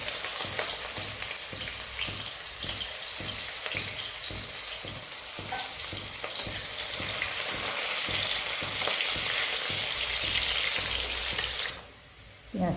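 Chopped onion frying in a pan with steady, dense crackling sizzle that holds evenly for several seconds, broken by a regular soft stirring pulse, then briefly drops out near the end.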